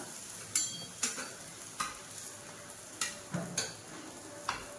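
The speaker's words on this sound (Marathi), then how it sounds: "त्याला चमच्याने थोडंसं तूप सोडायचं" Paratha frying with ghee on a pan, a soft continuous sizzle punctuated by several sharp spoon taps and scrapes at an uneven rhythm, close by with no talking.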